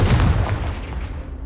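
A Confringo blasting spell goes off in Hogwarts Legacy, a loud booming blast right at the start with a rumbling tail that fades slowly over a second and a half.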